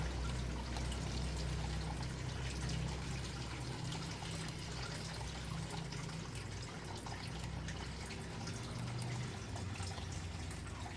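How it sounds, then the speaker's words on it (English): Water runs steadily from a hang-on aquarium filter on a small tank, a constant close splashing trickle over a low hum, with no voices. "with this you can regulate the flow of water"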